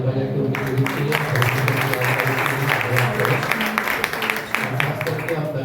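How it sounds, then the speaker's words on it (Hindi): Congregation at a church youth meeting clapping steadily together, a dense sustained wash of applause under a voice speaking and musical tones throughout. "सभी लोग ताली बजा के उनकी लीडिंग के लिए"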